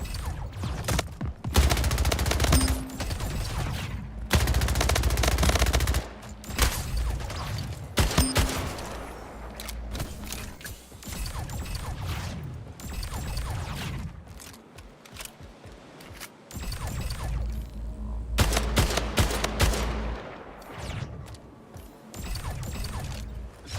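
Bursts of SMG fire in a Splitgate team deathmatch, rapid stuttering volleys repeating through the stretch amid mechanical clicks and game effects, fairly loud and close with no talking.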